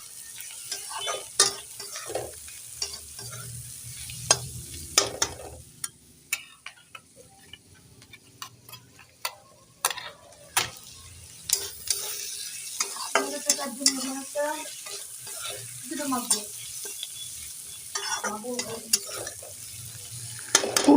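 Cauliflower stalks and leaves stir-frying in a pan make a soft background sizzle, broken by frequent clattering scrapes and taps of a spatula at an uneven rhythm, close by.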